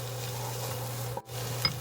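Onions, about a cup, sizzling in a tablespoon or two of olive oil in a pan: a steady low frying hiss, close up, with a brief stir and a light clink near the end.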